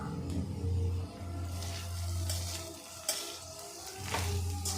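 Squeezed, pressed bitter gourd slices frying in hot oil, a steady close sizzle with intermittent stirring scrapes and light clinks of a utensil against the pan.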